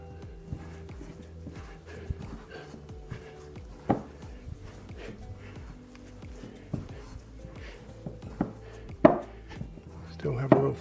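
Almond flour bread dough with vital wheat gluten being mixed by hand, soft irregular thuds and squelches at an uneven pace, faint and close, growing more vigorous toward the end.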